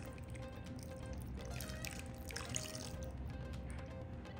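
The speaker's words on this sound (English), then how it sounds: "you're gonna take 1 cup of water and you're gonna pour it around the edges of your crock pot" A cup of water pours around the inside edges of a crock pot, a faint continuous trickle and splash over low background noise, lasting a few seconds.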